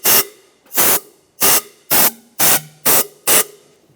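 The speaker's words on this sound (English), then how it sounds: "Just take some compressed air." Compressed air is blown in seven sharp, evenly spaced bursts while clearing debris from the valve cover area of a 1996-2002 Toyota 4Runner engine, each a loud close hiss with silence between.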